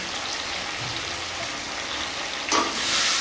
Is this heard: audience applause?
no